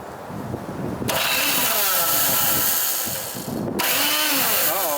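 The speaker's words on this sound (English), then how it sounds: "I think there's something wrong with this starter." A faulty starter on a Tecumseh 2-stroke engine in a Craftsman 3hp 21-inch snow blower whirs and grinds loudly in two long bursts, with a short dip between them.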